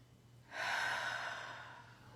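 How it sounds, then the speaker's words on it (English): A single deep, slow breath, close and soft, rising as a breathy rush of air and fading gently after a quiet pause. "Take some nice deep breaths."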